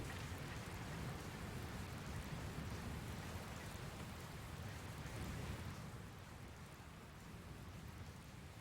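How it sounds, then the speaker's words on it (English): Steady rain and rumbling storm noise in the Dragon Quest Builders 2 video game on Nintendo Switch, a broad continuous wash that stays loud throughout and eases slightly near the end, with no talking. "Looks like there's another storm rolling in."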